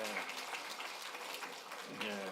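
Church congregation at a Sunday worship service applauding children as they leave, a steady patter of many hands clapping at moderate distance, fairly faint, with voices mixed in.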